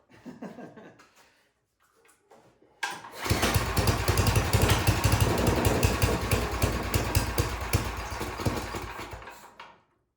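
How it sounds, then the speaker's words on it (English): An older Tecumseh snow blower engine sputters briefly, then catches at about three seconds and runs loud and close with a rough, steady throttle roar until the end. No one speaks. "It's got a little bit more throttle. This is an older Tecumseh motor."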